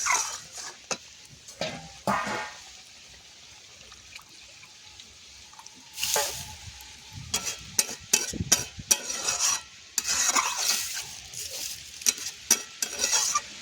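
Hot water poured into a pot of boiled dal in a village kitchen. Sizzling and splashing bursts come in uneven surges, with scraping stir-like clatter between them and quieter simmering gaps, close by and with no talk.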